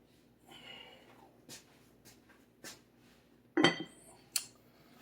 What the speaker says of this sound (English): Let me get my lid and my oven mitts